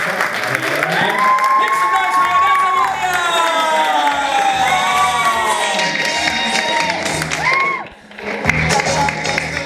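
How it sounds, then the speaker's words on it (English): Audience clapping and cheering at a storytelling event, mixed with shouts and whoops and a raised voice over the crowd, ending in a short lull before the noise picks up again. "So please start clapping, start clapping, start clapping"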